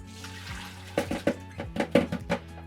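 Cold tap water runs over a bowl of wilted wild garlic, a low steady wash broken by several sharp splashes and clatters as the leaves are handled, fairly close and with no talk.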